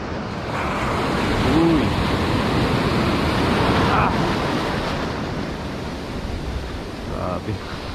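Sea waves breaking on the edge of a reef, a steady loud wash of surf with swelling and easing surges throughout.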